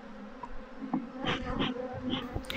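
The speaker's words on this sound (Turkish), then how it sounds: "biraz sert davrandığımız için arılar coştu" Agitated honey bees buzz around an opened hive during queen introduction, a steady close drone with individual bees whining past the microphone in short rising passes, no talk.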